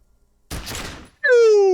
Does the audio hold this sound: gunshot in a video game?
yes